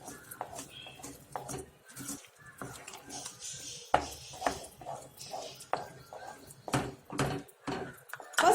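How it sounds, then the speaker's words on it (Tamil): Poha being stirred into halwa in a pan on a switched-off stove, with scattered soft scrapes and clinks of a spoon against the metal, close and fairly quiet, with some faint talk. "இப்போ ஆஃப் பண்ணிட்டு அவலை கிண்டிட்டு நம்ம ஒரு பிளேட்டுக்கு இதை டிரான்ஸ்ஃபர் பண்ணிடலாம்."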